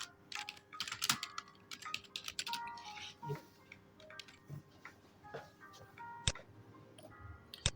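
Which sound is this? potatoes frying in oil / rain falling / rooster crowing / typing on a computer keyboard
typing on a computer keyboard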